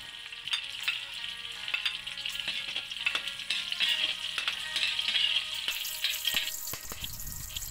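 Garlic and onion sauté in about two tablespoons of cooking oil, giving a close, steady crackling sizzle with scattered small pops and a faint watery hiss near the end.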